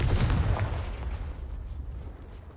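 A Confringo fire-blast spell cast in the video game Hogwarts Legacy: a heavy booming explosion at the start that rolls off into a long fading rumble.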